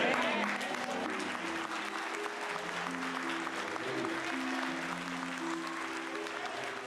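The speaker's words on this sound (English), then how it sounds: "The whole congregation stands up and applauds Kuhlman, and he gets a standing ovation" Church congregation on its feet giving a standing ovation, sustained dense applause from a large crowd filling the room, with voices mixed into the clapping throughout.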